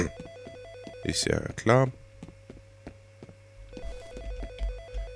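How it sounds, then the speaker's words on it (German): A telephone rings in the video game F.E.A.R., a steady electronic ring with a low mains-like hum running underneath, while someone speaks briefly in the middle. "jetzt klingt da hinten auch noch ein Telefon."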